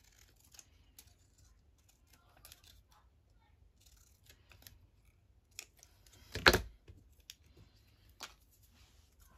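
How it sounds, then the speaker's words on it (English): Scattered soft metallic clicks and snips, with one louder scraping burst partway through, in an otherwise quiet room. "Need to give my scissors a clean."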